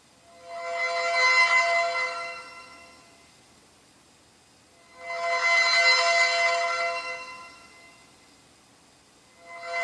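The Progressive Dapple ringtone on a ZTE Open phone running Firefox OS plays a bright, chiming tonal phrase that swells in and fades twice, with a third swell beginning at the end, clear and alone.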